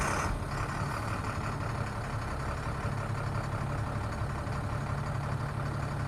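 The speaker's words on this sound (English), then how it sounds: "I'll go ahead and turn the key here and start it up so you can watch the gauges" A 2005 Altec AA600L truck's heavy diesel engine turning over and settling into a steady, rumbling idle, close and continuous with no talk.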